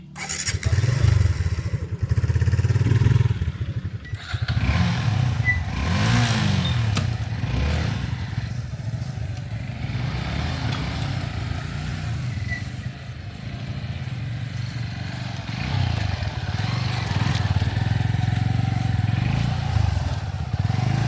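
A motorcycle riding along village roads in rural Gazipur, Bangladesh, its engine droning steadily and close throughout with small rises in revs and some clatter, no talk over it.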